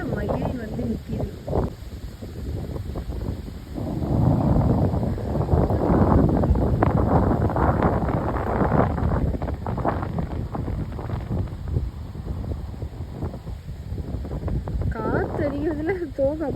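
Gusts of wind buffet the microphone in loud rumbling waves while a person talks outdoors near a village well.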